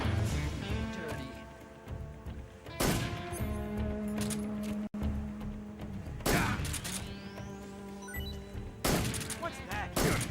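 Metal Gear Solid 3 on PS2 plays a grenade blast and bursts of gunfire. Loud repeated impacts and crashes sit over a dense background of game music and effects, with someone talking over parts of it.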